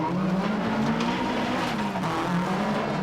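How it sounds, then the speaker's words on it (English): Race cars sliding and skidding around a very tight course at the 1990 Race of Champions, loud continuous engine roar with tire squeal, close and unbroken, no talk. "the cars sliding around this very tight course, considerably tighter than last year's Nürburgring course"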